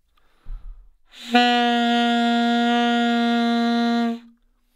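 A reed instrument sustains one loose, slightly airy tone for about three seconds with the player's jaw too slack, with a soft breathy onset and a gentle fade at the end.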